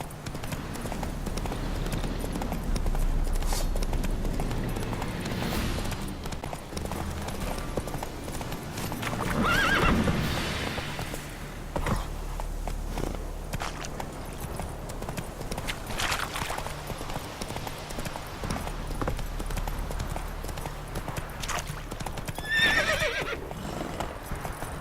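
Roach the horse gallops in The Witcher 3 video game, with rapid, driving hoofbeats and several loud neighs and whinnies over background music across a long stretch.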